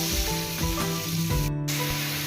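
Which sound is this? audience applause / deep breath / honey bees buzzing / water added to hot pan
water added to hot pan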